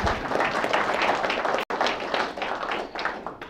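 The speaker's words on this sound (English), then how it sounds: "Give yourselves a round of applause." A crowded room of people applauds at a talk, dense continuous clapping that briefly cuts out for an instant before carrying on at the same level.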